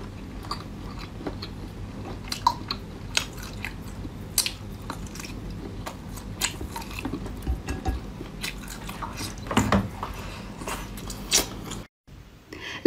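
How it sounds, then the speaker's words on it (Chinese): Close, wet biting and chewing of spicy octopus and seafood in a mukbang, with continuous crunchy, squelching mouth sounds and juicy drips, no talking. "吃一口。"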